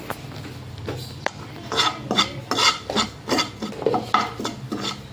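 A spoon stirs and scrapes through intestine curry ingredients in a pot, a run of rhythmic rasping strokes with metallic scuffs, close and moderately loud, no talking.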